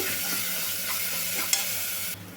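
Freshly pounded ginger garlic paste fries in hot oil for biryani, giving a dense, continuous close sizzle with faint stirring scrapes and one brief clink near the end.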